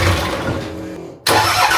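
Nissan Patrol diesel engine cranking and briefly catching, a loud, close rumble that cuts out for a moment and then surges back, with no voices.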